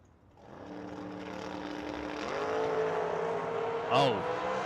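Race cars roar in a heads-up drag race at a million-dollar event, engine noise building loud and sustained with rising harmonic tones as they launch and pass, ending in a brief sharp high burst.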